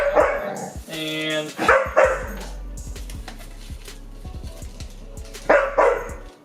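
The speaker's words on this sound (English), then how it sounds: "he's barking at the fridge." A dog named Archer barks at a fridge indoors in a few sharp, loud bursts, with someone talking over and between the barks.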